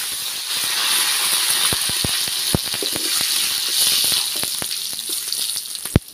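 Dried red chillies and curry leaves sizzle in hot oil with mustard seeds, a steady bright hiss broken by sharp sputtering pops, close and continuous, no talking.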